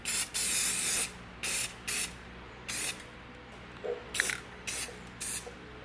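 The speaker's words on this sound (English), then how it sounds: "About to spray paint that so it doesn't rust further." Several short bursts of spray paint hissing from an aerosol can onto a rusting 1974 Ford F100 truck, some long and some brief, separated by quiet gaps, close and fairly loud.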